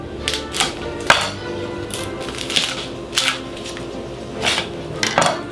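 A knife on a plancha slices hot cooked shrimp, giving a series of short sharp scraping and tapping hits against the metal plate, irregularly spaced, close and moderately loud over low sizzling.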